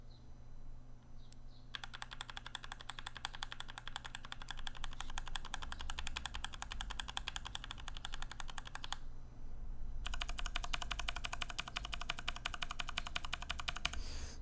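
Keys on Motospeed K82 and K104 mechanical keyboards are pressed in rapid, even bursts, two long runs of crisp clacks separated by a short pause, close and clear over a faint hum.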